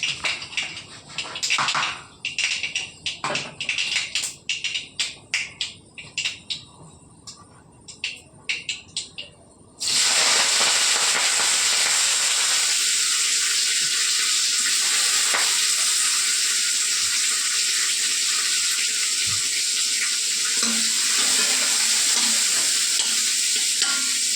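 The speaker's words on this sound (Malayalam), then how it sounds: "അങ്ങനെ കടുക് ഇട്ട് കൊടുത്തിട്ടുണ്ട്" Mustard seeds hit hot oil in a home kitchen pan and pop in scattered sharp crackles for several seconds, then a loud, steady, close sizzle takes over and continues to the end.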